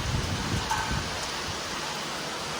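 Heavy rain pours outdoors as a dense, even hiss of countless drops, with some low rumbling bumps early on and no voices.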